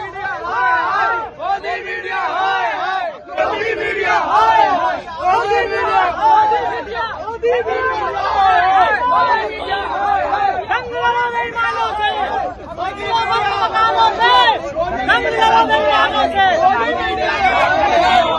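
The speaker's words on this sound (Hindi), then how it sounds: "वहां भीड़ जमा भी हो रही है और लगातार गोदी मीडिया के खिलाफ नारेबाजी हो रही है" A crowd at a Jantar Mantar protest chants slogans against the media, a dense, loud babble of many voices rising and falling in waves across the whole stretch with barely any pause.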